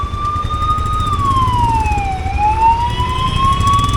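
A police siren wails on a road during a motorcycle trip from Pune to Leh, a loud, continuous tone sliding slowly down and then back up, with faint road rumble beneath and no voices.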